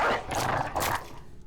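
Dogs bark and yelp in a few rough, close bursts during a video game battle, loud at first and then fading over about a second and a half.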